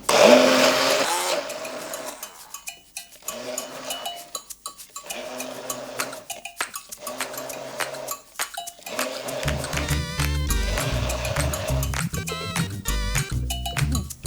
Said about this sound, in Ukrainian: Тепер цей блендер має ще впоратись з цією сумішю.